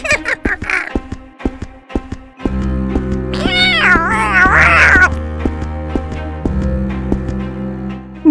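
A cat meows with drawn-out, wavering cries in the middle, set over a steady musical backing, with sharp taps and clicks earlier on.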